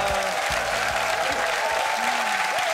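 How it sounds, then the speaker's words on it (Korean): A Korean TV studio audience of army reservists and soldiers applauds, a dense burst of continuous clapping close by, with a brief voice heard faintly underneath. "박수 보내주세요"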